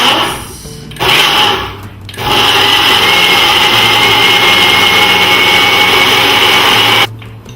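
A blender pureeing fruit runs loud and steady for several seconds after a couple of short pulses, then cuts off abruptly.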